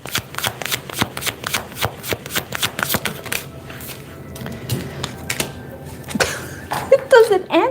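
Tarot cards being shuffled by hand, a rapid run of crisp riffling slaps up close, then a pause with softer card handling and a brief flutter near the end.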